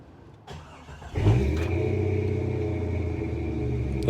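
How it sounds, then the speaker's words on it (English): A 1997 Jeep Cherokee engine cranks briefly and then catches, settling into a steady, close, rumbling idle that holds to the end, with no talking. "the engine started perfectly"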